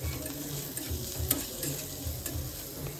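Chopped ginger and garlic sizzle steadily in a hot pan while home-made cutlet filling is being cooked, with a soft continuous frying hiss and occasional scraping stirs.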